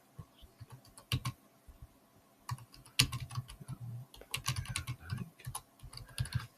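Fingers tap steadily on a computer keyboard nearby, with irregular bursts of clicking keystrokes and short pauses between them.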